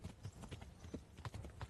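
Horse hooves clip-clopping in the medieval video game Kingdom Come: Deliverance, a quick steady trotting rhythm, quiet and close, with no voices.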